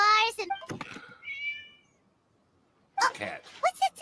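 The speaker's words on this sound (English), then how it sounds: "It's a cat." Cat meowing in Genshin Impact, a short bright meow at the start followed by a second one after a quiet gap, with game character dialogue around it.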